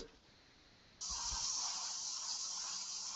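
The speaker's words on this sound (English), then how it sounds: "I'm straightening out my airbrush and I don't want too much overspray coming down into this area here" A paint airbrush begins spraying for a skull airbrushing job, a steady close hiss that starts abruptly after a short quiet moment and runs continuously without talk.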